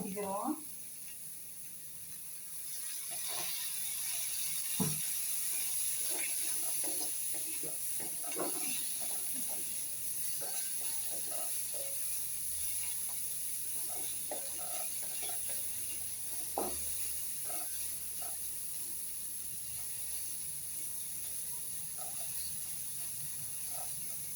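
Bitter gourd and potato sauté in oil in a pan with a low, steady sizzle, broken by scattered scrapes and taps of a spoon stirring the pieces; the sound is moderately close and faint, and no one talks.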